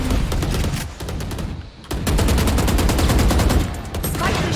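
Bazooka fire and gunfire in the video game Valorant: loud, dense bursts of rapid shots in near-continuous volleys with a brief lull midway.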